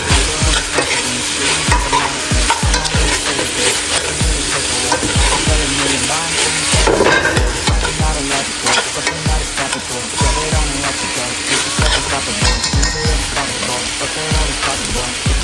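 Potatoes go into a pot of Jamaican-style curry pork with coconut milk, setting off a loud continuous sizzle broken by repeated scraping stirs of a spoon against the pot.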